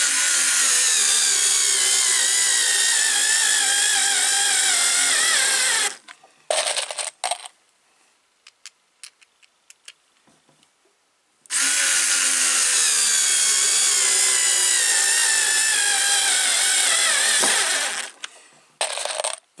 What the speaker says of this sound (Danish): Så herover der skal den arbejde meget mere for at få skruen i.